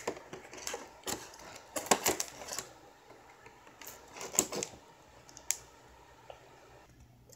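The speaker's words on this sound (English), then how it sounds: "Oops, forgot to cut the tape." Short irregular clicks and scratchy cuts of tape being sliced on a L.O.L. Surprise! B.T.W. Tweens Hoops Cutie doll box, close and fairly quiet, with a few sharper snips and pauses between.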